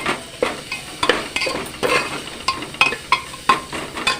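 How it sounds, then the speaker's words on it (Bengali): Sago khichuri with added salt is stirred in a cooking pot, a close rhythmic series of scraping, clinking spoon strokes about twice a second over a light sizzle, with no speech. "এটা দিয়ে এবারে আমি নাড়বো এটা"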